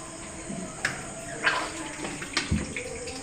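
Water runs from a tap over four chicken legs being washed in a home kitchen, a soft steady trickle broken by a few splashy bursts as the pieces are handled.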